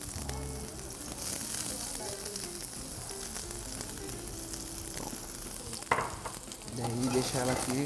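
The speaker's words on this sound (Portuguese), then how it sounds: "daí aqui começou a subir a fumaça, é a hora que eu vou jogar a cebola" Onion hits very hot olive oil in a frying pan, setting off a loud, steady hiss and crackle with stirring scrapes, close by, while a person talks briefly over it.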